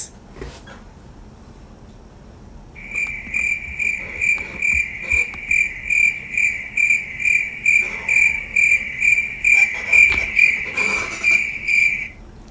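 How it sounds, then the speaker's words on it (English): Cricket chirps used as a sound effect: after a quiet start, a loud, high, rapid pulsing trill repeats in a steady rhythm for about nine seconds and then cuts off. "But now we gotta do the crickets."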